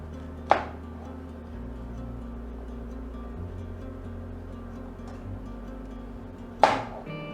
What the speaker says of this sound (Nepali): यसलाई सानो सानो टुक्रामा लामो लामो हुने गरी काट्छौँ